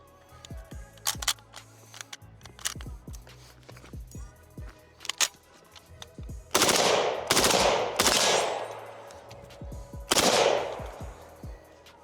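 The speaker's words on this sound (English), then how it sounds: "I was kind of doing a little bit of burst fire there just to demonstrate that you can in fact burst fire" Rifle fire from an SKS, RPK or AK-74 at an outdoor range: sharp individual shots with hard, echoing reports, then rapid bursts of several rounds in quick succession, loud and close.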